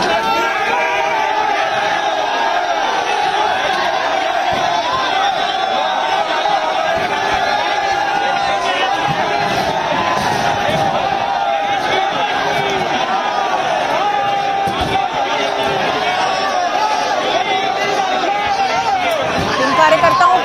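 BJP party workers in a dense protest crowd near Arvind Kejriwal's house shout slogans against the government, a loud, continuous chanting roar of many voices that barely lets up.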